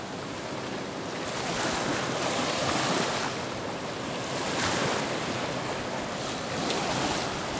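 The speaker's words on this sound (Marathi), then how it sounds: "छोटी लाट ब्रेक होताना दिसत आहेत" Small ocean waves breaking at a river mouth near Devbag, Malvan, a steady surf wash rising and falling in gentle surges, with some wind on the microphone and no talk.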